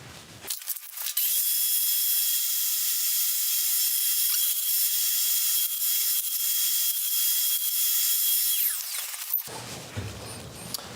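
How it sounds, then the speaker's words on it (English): A wooden vase sanded on a lathe while a dust extractor runs, a loud steady high-pitched whoosh and whine that starts abruptly, holds for about eight seconds with faint sanding rasps, then cuts off into quiet workshop noise. "I'll just get the extractor going, and then we'll just blast through the grits to get that sanded up"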